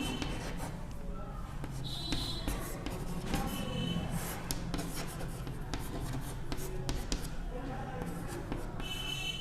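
A pen or chalk scrapes steadily while numbers are written by hand for a class-5 math lesson on ascending and descending order. The scratchy sound is continuous and close, with a faint voice now and then.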